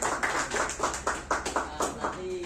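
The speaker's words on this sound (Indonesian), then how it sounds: "Berikan tepuk tangan untuk kita semua." A small group applauds together in an Indonesian classroom group guidance session, giving steady, close hand clapping with an uneven rhythm that lasts the full few seconds.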